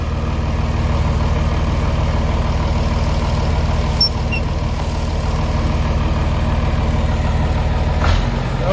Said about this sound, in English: Now this is the test when we let go of the clutch, where all the hydraulic pressure is.